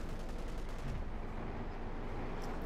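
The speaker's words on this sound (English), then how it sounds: "He gets hit by his own artillery." Artillery fire in Company of Heroes 2, a faint, dense rumble of shelling and gunfire rolling on steadily with no distinct individual blasts.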